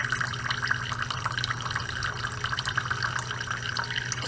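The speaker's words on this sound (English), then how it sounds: "The water is pouring." Water runs from a refrigerator ice maker water line during installation, a continuous splashing, trickling stream with a steady rushing texture and a faint low hum underneath, fairly close.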